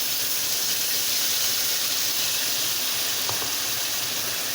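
Ground spice paste dropped into hot oil sizzles and hisses loudly and continuously in a home kitchen, a dense, steady frying crackle with no voices.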